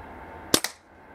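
A single Weihrauch HW97 air rifle shot, a sharp close crack followed almost immediately by a second snap of the pellet striking, then quiet.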